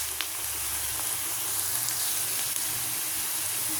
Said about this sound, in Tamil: ஆயில் ஊற்றி அதில் கொஞ்சம் ஆனியன் போட்டிருக்கேன். இது கொஞ்சம் வதங்கட்டும்.